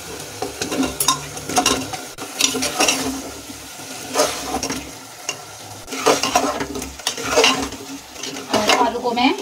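Potatoes fry in a spiced masala with ginger in a pan for aloo baingan, a steady sizzle broken by repeated scraping stirs of a spoon against the pan, close and fairly quiet.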